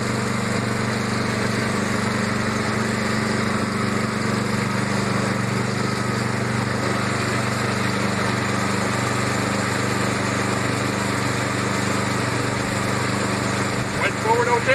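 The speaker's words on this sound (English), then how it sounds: "today I'm just going to be doing a rear drive test, aka driving the snowblower" A small snowblower engine runs steadily at a constant high idle during a rear drive test, a continuous buzzing drone with a brief clatter near the end.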